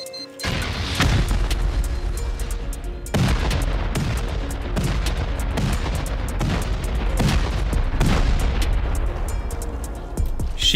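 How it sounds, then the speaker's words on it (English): Heavy C4 charges blasting through armored sheet-metal and stone bunker walls in a solo raid in a survival video game, with repeated loud, booming detonations that crack and rumble one after another over a dense, continuous roar of gunfire. "I think I'll start using C4 here."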